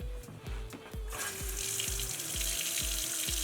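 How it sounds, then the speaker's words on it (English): Water starts running from a kitchen faucet with a newly replaced Moen 1255 cartridge and builds into a steady hiss, with regular low thumps and a faint hum underneath. "Now all I have to do is go and turn on the water."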